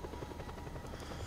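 A helicopter in the Just Cause 2 video game gives a steady, rapid rotor thudding with a low engine drone, fairly close and continuous, with no talk.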